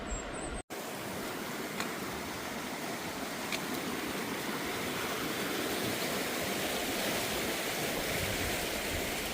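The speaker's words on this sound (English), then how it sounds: "Waterfall in the back of the valley." Waterfall at the back of a mountain valley on a remote trail, a steady broad rushing hiss that stays even throughout, distant but filling the scene, with no voices.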